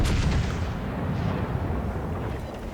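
A battleship's main guns fire a salvo in World of Warships, opening with a heavy, deep boom that rolls into a long, dense rumble with no voices over it.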